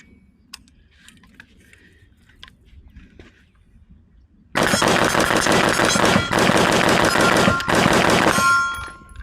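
Rapid rifle fire from Smith & Wesson M&P 15 Sport III and FN 15 Guardian AR-15 rifles bursts in loud and sustained after a quiet stretch, a dense string of close shots with metallic clangs that stops abruptly near the end.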